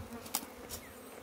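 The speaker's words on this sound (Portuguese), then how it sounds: "É a abelha. Tirar ela daqui de cima." Italian honey bee buzzing near a hive full of capped honey, a faint thin drone with a couple of brief louder passes as the insect flies close, no talking.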